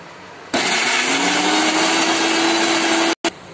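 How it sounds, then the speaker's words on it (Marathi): A mixer grinder grinding fresh coconut starts up and whirs loudly and steadily with a rising motor whine, then cuts out briefly before restarting. "मिक्सर मध्ये काढून घेते।"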